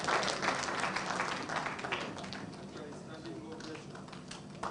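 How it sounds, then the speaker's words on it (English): An audience at an opposition party's alternative national budget presentation claps in a dense patter that starts fairly loud and gradually thins and fades, mixed with a voice speaking. "Honorable Chivumbi deserves a better round of applause than that."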